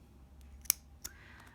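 Scissors snip through crochet yarn in two sharp, close metallic clicks about a third of a second apart, with faint handling noise after and no talking.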